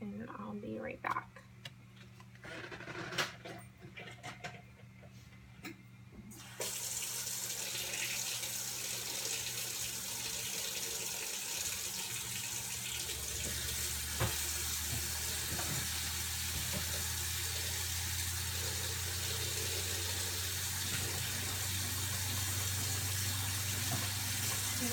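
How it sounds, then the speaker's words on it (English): Keurig coffee maker heating and dispensing hot water, a quiet rustling start giving way to a sustained hissing, bubbling pour that runs steadily to the end. "I'm using my Keurig just to get the process done faster of hot water."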